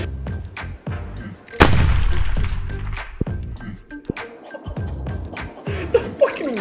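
A large Tremor rifle fires at an outdoor gun range, one heavy booming shot near the middle followed by sharper reports and clatter, with people talking nearby.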